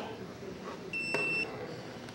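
An electronic smart lock gives one clear, high beep lasting about half a second, with soft room noise around it.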